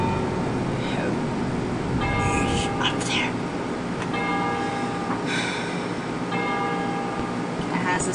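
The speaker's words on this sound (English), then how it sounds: "Ringing that bell." A bell rings with sustained metallic tones inside the horror video game Cry of Fear, heard under a dense, droning ambient game soundscape with a voice speaking over it.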